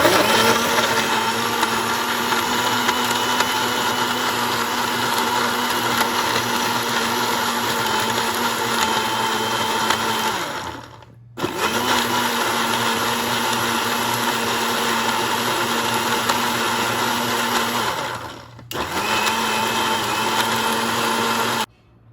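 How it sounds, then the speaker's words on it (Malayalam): A kitchen blender whirs steadily and loudly, blending a dates milkshake with cardamom powder, running continuously for about twenty seconds with two brief pauses where the motor dips and restarts. "എന്നിട്ട് നന്നായിട്ടൊന്ന് ബ്ലെൻഡ് ചെയ്തെടുക്കാം"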